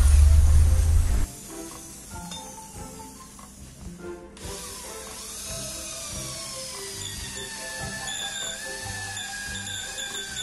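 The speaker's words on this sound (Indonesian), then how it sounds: "setelah digambar itu langsung dibuat dratnya dulu ya" A tap or power tool cuts a thread into a motorcycle brake caliper bracket, with a brief loud burst at the start, then steady ratcheting and whirring with metallic clicks and a rising whine.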